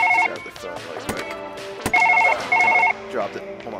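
A telephone rings in the surgery game Surgeon Simulator in several short repeated electronic bursts, loud and close, amid clattering impacts and a voice talking.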